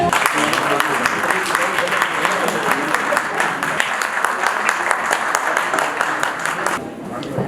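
A crowd at the Pride of City Awards 2022 bursts into loud, sustained applause, with dense clapping from many hands that carries on strongly before dropping off near the end, and a voice briefly audible within it.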